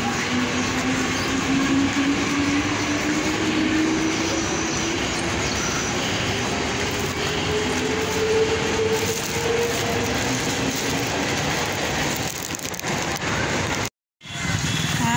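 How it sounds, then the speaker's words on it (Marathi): A train rolls steadily along near Kalwa station, Thane, with a constant rumble and rattle, a rising whine threading through, before a sudden brief dropout near the end. "ट्रेन चालू झालेली आहे"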